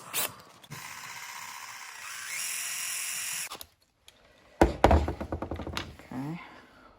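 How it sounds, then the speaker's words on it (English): A powered screwdriver whirs in steady bursts while driving a screw into the brake linkage of a Redcat Tornado nitro buggy, followed by clicking, ratcheting tool and parts handling clatter up close. "screw the screw back in so it doesn't fall out. I'm also going to take off this little handle."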